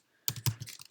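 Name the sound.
typing on a computer keyboard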